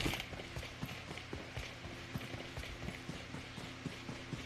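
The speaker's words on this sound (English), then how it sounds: "They heighten the sound of my footsteps." Footsteps of a running character in the mobile game PUBG Mobile, a quick, steady rhythm of thudding steps repeating throughout, moderately close over a constant noisy background of game ambience.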